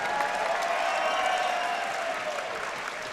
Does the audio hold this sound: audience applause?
yes